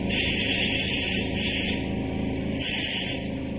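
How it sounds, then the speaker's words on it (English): An air compressor inflates a tire on a Wildcat side-by-side, with three loud bursts of hissing air separated by short pauses over a steady low engine hum. "compressor's going"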